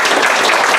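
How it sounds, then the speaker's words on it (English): A live show audience claps for a volunteer, a brief, loud, dense patch of applause with no gaps. "Please give her a round of applause."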